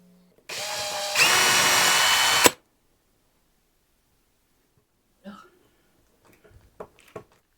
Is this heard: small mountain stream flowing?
no